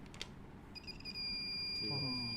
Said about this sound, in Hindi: देखिए यहाँ से हम यहाँ बीप करा सकते हैं आराम से